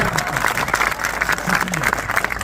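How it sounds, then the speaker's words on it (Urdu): An audience at an All India Mushaira poetry gathering in Saharanpur claps in a loud, dense burst of applause that fills the hall evenly, with crowd voices mixed in. "ایک بار ذرا سا تالی بجا کے مجھے زندہ کر دیجیے"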